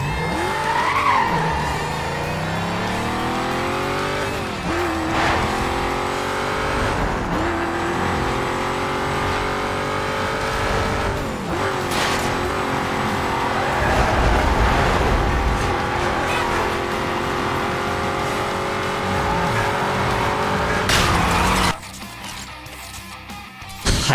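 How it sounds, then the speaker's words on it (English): A car crashes in Need for Speed Most Wanted: a loud, continuous engine whine shifts pitch with tire squeals, then cuts out abruptly near the end. "I crashed into that car"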